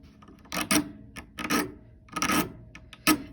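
A hand file rasps back and forth over metal edges in four distinct strokes, each a close, gritty scrape separated by short pauses.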